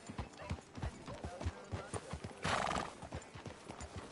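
Horse hooves clip-clop in a quick, regular rhythm in Red Dead Redemption 2, close and steady across the whole stretch, with a brief burst of brighter noise partway through.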